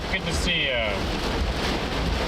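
Severe storm in the Carolinas, wind and rain roaring as broadband noise with microphone buffeting, briefly under someone speaking at the start.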